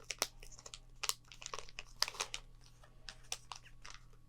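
A Happy Meal Pokemon card pack being opened close up, its wrapper crinkling and tearing in quiet, irregular bursts of sharp rustles.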